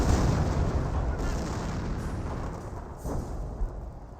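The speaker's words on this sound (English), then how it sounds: "looks like the priest is now coming for a barrage in this general location" A Priest self-propelled gun lays down an artillery barrage in Company of Heroes, heavy rumbling booms rolling continuously and loud, with sharper thuds breaking through near the end and faint speech underneath.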